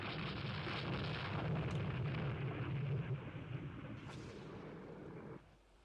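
Naval shell hits and explosions in the video game Rule the Waves II, a dense, sustained rumbling roar of blasts that fills the scene before tapering and cutting off, with no talk over it.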